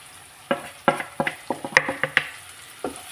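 Pickle being stirred after pickle powder and Kashmiri chilli powder go in, a dozen or so short scraping knocks of a spoon against the pot, close and fairly quiet, with no voices.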